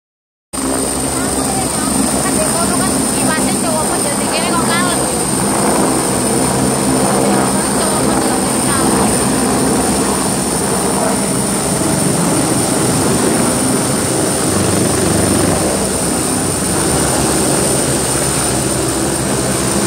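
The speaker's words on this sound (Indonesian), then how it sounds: "Ternyata baru tahu ini aku, kalau ada helikopter mendarat di sini." A helicopter landing at Golden Bauhinia Square, Hong Kong, its engine roaring loudly and continuously, with a steady rotor drone and rushing wind noise up close.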